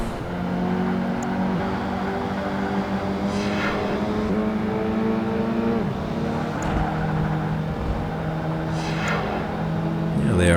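A Mazda RX-7 engine drones steadily at sustained revs in Project Gotham Racing 2, loud and continuous throughout, with a couple of brief rising whines as it shifts and no talking.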